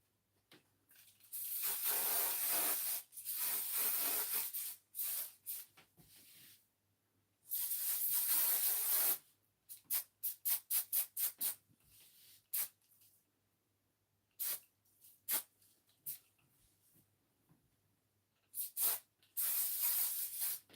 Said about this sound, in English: I'm gonna go in with some more hairspray, I think.